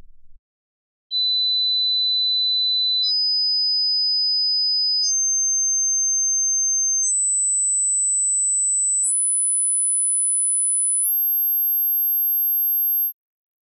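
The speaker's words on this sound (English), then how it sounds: "So let's listen to those high frequencies again and you can compare what you hear with your age." Pure sine test tones step upward in pitch, each held steady for about two seconds, six high-frequency tones in sequence from around 4 kHz toward 12 kHz, clean and continuous with no other sound.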